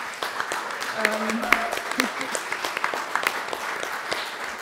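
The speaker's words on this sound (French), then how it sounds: "Je voudrais vraiment vous demander qu'on l'applaudisse chaleureusement." A congregation at a church service applauds warmly in a scattered patter of claps, with a voice briefly heard under the clapping.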